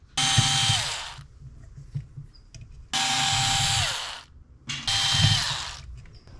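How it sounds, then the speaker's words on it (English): Cordless power driver backing screws out of a Nuobell adjustable dumbbell handle, with three loud whirring bursts of a second or two each, separated by brief pauses with faint clicks and handling noise. "take out these 4 screws from both sides"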